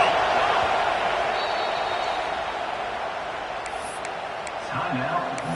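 Nebraska football crowd roaring in a big stadium, a broad, sustained wall of cheering that stays loud throughout and swells slightly near the end, with a few sharp whistles cutting through.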